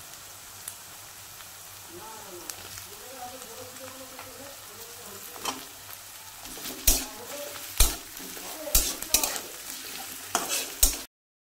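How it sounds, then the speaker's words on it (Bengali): Onion and chopped tomato fry softly in a pan while a utensil stirs them, its scraping clatters growing louder and more frequent toward the end; a faint voice murmurs early on. "পেঁয়াজ টমেটোটাকে ভালো মতো করে আমি ভেজে নিয়েছি"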